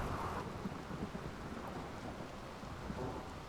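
Rumbling thunderstorm with steady rain in the colony-building game RimWorld, a dense continuous wash of downpour and low thunder that stays fairly faint and unbroken, with no voices over it.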